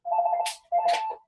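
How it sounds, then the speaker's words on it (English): Telephone ringing in the background during an indoor interview, two electronic ring bursts each ending in a brighter trill, fairly loud and alone. "Sorry for the phone in the background there."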